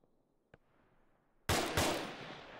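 Airsoft gunfire crackles outdoors during a milsim game: a faint lone pop comes first, then two louder, close shots follow in quick succession.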